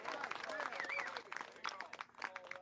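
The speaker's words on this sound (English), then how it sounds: "Let's see why people are clapping over here." Golf spectators clapping at the Australian Open, a scattered ripple of applause from a crowd with commentary voices talking over it.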